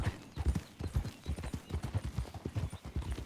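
Horse hooves clip-clop in a steady, rapid rhythm throughout a Western-themed video game, loud and close, with a faint whinny-like tone hinted at in the mix and no talking.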